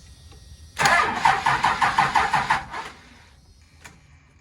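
A 12-valve diesel engine with compound turbos cranks over in a fast rhythmic chug of about a dozen loud pulses, catches briefly and then dies away, with no one speaking.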